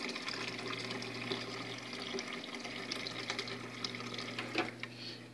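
Tap water runs steadily from a faucet being drained a couple of litres at a time during a cleaning routine, a continuous close hiss and splash with no talk.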